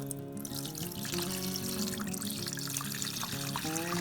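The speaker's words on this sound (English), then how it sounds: "I'm going to be getting that water from there and be pouring on the" A steady stream of water pours and trickles continuously onto a turkey being oven baked, close and moderately loud, with a faint underlying hum and no talking.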